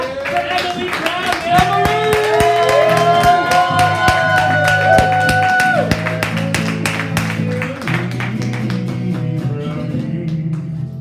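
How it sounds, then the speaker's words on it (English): An audience at a live late-night comedy show claps and cheers for a comedian taking the stage, with loud whoops and voices riding over scattered clapping before it tapers off near the end. "get the round of applause going"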